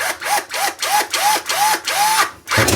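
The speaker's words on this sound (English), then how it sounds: "you can use the drill to put it back on" Power drill driving screws to refasten a dryer vent cover, heard in six or so short whirring bursts whose pitch rises as each one spins up, separated by brief pauses, loud and close.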